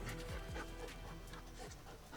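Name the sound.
retriever dog panting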